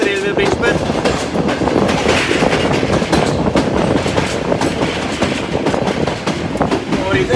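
Green Line Express passenger train crossing a railway bridge over the Jhelum River under a 40 km/h caution, a loud, continuous rumble with rapid clickety-clack of wheels on rails.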